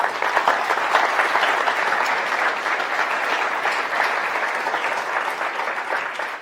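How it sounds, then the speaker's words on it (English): Steady applause from a town hall audience in Del Mar honoring veterans in the room, a dense, even wash of clapping that holds at full strength throughout with no talking over it. "Can we give them a round of applause"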